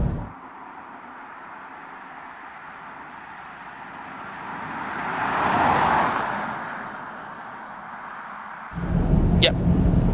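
A 1991 Daimler Double Six V12 pulls under full acceleration, a muffled cabin roar that swells to a peak midway and then cuts to a different, louder drone, with no talk over it.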